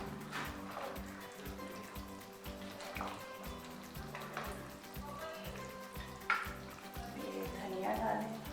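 A pot of shab daig seasoned with garam masala is stirred gently, a steady rhythmic scrape and soft sizzle repeating about once a second, close and fairly quiet.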